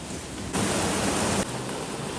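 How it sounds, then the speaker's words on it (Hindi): Heavy rain pours steadily, a dense broadband hiss that swells louder for about a second in the middle before settling back, with no voices. "इतनी जोर से बारिश हो रही है, अब तो हम कहीं बाहर जा ही नहीं सकते।"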